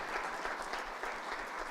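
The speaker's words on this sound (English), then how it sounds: "Big round of applause." A brief burst of steady applause from the audience at a Board of Education meeting, clapping for a state championship team, even and moderately loud throughout.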